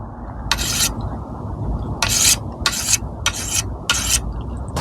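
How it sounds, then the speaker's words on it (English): Gardening shears sharpened on a Rushmore 5-in-1 pocket sharpener, giving five distinct raspy strokes of blade on the coarse and fine stones over a low steady background hum, close and fairly loud. "So these gardening shears, they need to be sharpened."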